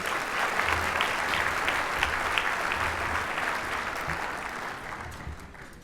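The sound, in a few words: audience applause at summit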